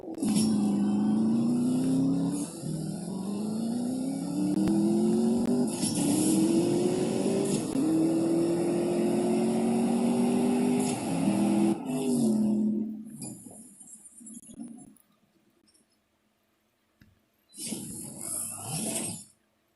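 Car engines from a live racing video game drone and rise in pitch together for about twelve seconds, loud and continuous, then fade out, and a short burst of engine noise returns near the end.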